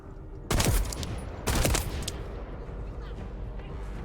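Sniper rifle fire in a hardcore World of Warcraft run, two sharp, loud cracks about a second apart, each trailing off into a rumbling tail over continuous battle noise.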